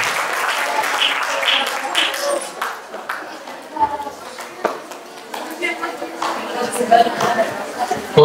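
Audience applause in a lecture or seminar hall after an inspirational talk, sustained clapping from a crowd with some chatter mixed in, continuous and fairly loud throughout.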